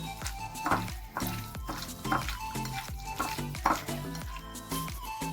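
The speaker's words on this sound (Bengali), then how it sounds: "এবার এটাকে খুব ভালো করে আমি মাখিয়ে নেব" Chicken pieces coated with spice powder are mixed by hand for chicken popcorn, giving repeated wet squishing and sticky slapping strokes in a steady rhythm, close and clear, with no talk.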